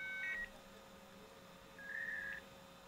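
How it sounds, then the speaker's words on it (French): A telephone number is dialed in a video game: short electronic tones, a quick pair of beeps near the start and a longer tone later, faint over a quiet hiss. "là on entend la personne pianoter pour faire le numéro"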